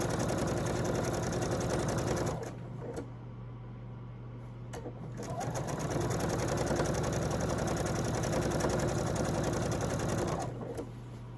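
A sewing machine stitches long fabric strips for a quilt pattern in fast, even bursts, running steadily close by, pausing briefly, then resuming its rapid mechanical whir and clatter.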